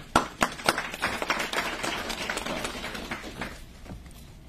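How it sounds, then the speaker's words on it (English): Scattered clapping from an audience at an official press update, a few sharp claps followed by a brief uneven patter that fades out within a few seconds. "Please give them a round of applause."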